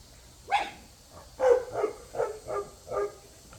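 Several dogs give a run of sharp barks and yips, about six spaced bursts with short whimpers between them, fairly close and clear against quiet background.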